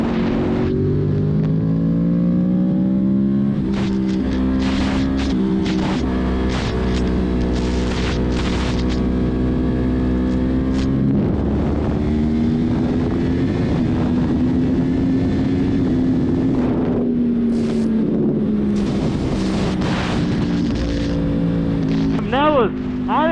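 A 1000cc sport motorcycle's engine drones loudly and steadily as it pulls through the gears, the pitch rising and easing with each shift, mixed with heavy wind rush and brief bursts of talk.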